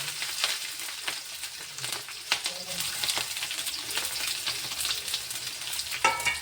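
Onions and green chillies frying in hot oil with curry leaves, giving a steady close sizzle with occasional stirring clicks and scrapes throughout.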